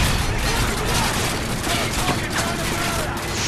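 Dense, continuous gunfire and explosions from a Modern Warfare 3 battle in the mission Mind the Gap, steady and loud throughout with faint voices mixed into the chaos.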